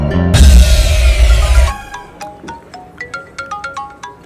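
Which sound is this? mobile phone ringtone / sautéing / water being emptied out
mobile phone ringtone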